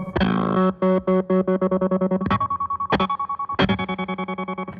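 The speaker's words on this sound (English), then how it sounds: "If this was me, I'd set this up for a one-hit glitch sound." A distorted guitar through a Stone Deaf Tremotron tremolo pedal stutters in rapid chopped pulses, broken by a few sharp one-hit glitch effects that interrupt the choppy rhythm.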